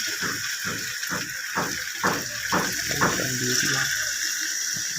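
Water poured into a pot of browned chicken curry, a steady splashing gurgle with rhythmic pulsing bubbles and clunks, close and moderately loud with no talking.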